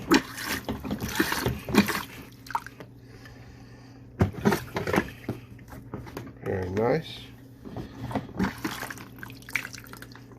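A Thetford 345 Porta Potti portable toilet is flushed and rinsed in a camper or boat setting, giving brief bursts of splashing, trickling water and mechanical clunks between stretches of close conversation.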